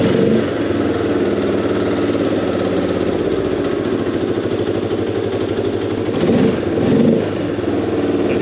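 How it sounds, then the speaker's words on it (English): A motorcycle engine with a carburetor idles loudly and steadily up close, holding a raised idle before the revs dip and settle lower, with a couple of brief swells near the end. "That'll kind of show you that delay of that idle hang"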